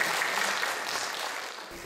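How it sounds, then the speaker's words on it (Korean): Audience applause at a Korean-language speech contest, a continuous, fairly faint wash of many hands clapping with no break for the full couple of seconds. "박수 쳐주세요."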